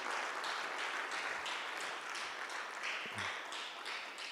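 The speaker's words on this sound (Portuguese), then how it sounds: "Então dá uma salva de palmas para Jesus." A church congregation at an evangelical teaching service claps together in a quiet, somewhat distant wash of applause with a loose rhythmic pulse and a few faint taps.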